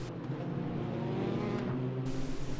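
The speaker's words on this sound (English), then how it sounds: "let's get on board the Praga R1 and do a lap around Zhejiang Circuit" Praga R1 race car lapping Zhejiang Circuit, its engine a steady low droning rumble heard from on board, holding a fairly constant tone with slight pitch shifts throughout.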